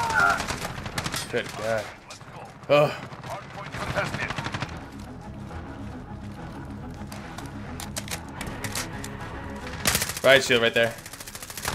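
Automatic gunfire in Call of Duty Modern Warfare comes in bursts and rapid volleys, with sharp louder shots near the start and end, mixed with game effects and with players talking over it.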